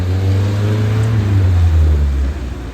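A blue car passing on a Brooklyn street, heard up close as a steady low engine drone with road noise that holds for a few seconds, then eases off slightly as it goes by.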